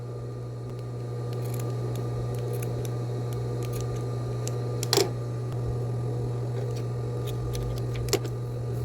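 Scissors cut pieces of material to equal size, giving a series of faint, separate snips spaced a second or so apart. A steady low hum runs underneath and there is no talk.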